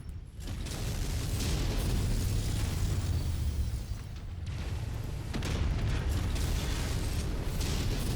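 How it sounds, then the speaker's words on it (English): Mech weapons fire in the MechWarrior 5 video game as a loud, continuous heavy rumble with deep booming blasts and mechanical clanking, holding steady for the full stretch with no voices. "Mech shots go"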